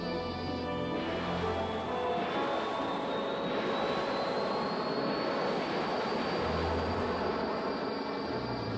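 Military aircraft in flight, B-29 bombers and fighter-bombers over Korea, giving a loud sustained engine roar with a slowly rising whine, continuous throughout with no voices.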